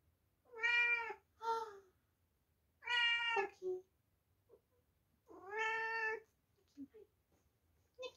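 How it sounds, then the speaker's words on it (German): A cat meows several times, with a few distinct drawn-out calls separated by short pauses, close and clear against a quiet room. "Dann haben wir eine Katze hier."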